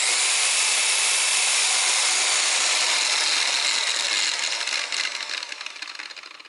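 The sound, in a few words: DeWalt rotary polisher running with noisy gears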